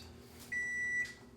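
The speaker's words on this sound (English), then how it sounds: "That's our alarm going off." A cooking timer alarm going off in a kitchen, a single clear electronic beep about half a second long over faint background hum.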